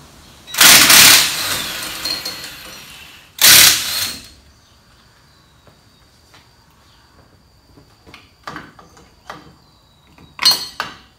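Wrench work loosening the axle nuts on a MOPAR 7 1/4 rear end, with two loud bursts of ratcheting or impact tool noise early on, then quieter metallic clinks and taps scattered through the rest of the stretch.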